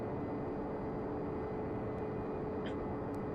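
Aircraft engine in the X-Plane 11 flight simulator, a steady even drone at moderate level with no change throughout, a few faint brief clicks near the end.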